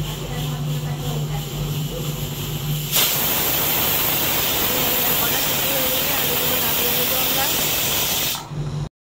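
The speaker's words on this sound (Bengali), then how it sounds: "এই দেখুন বন্ধুরা, সিটি উঠছে।" A pressure cooker whistle blasts steam in a loud, continuous hiss that begins abruptly after a few seconds and holds steady before cutting off, while potatoes boil for aloo kabli chaat in a kitchen; a voice talks briefly before the hiss.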